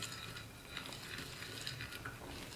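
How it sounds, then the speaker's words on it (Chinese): A flour batter for chive pockets, made with plain flour and a pinch of salt, is stirred steadily in a bowl, giving a soft, continuous scraping swish that stays faint and close throughout. "我们这个面糊一定要多搅拌一会儿"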